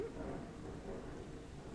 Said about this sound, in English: It's actually really nice that we're having a thunderstorm and that it's raining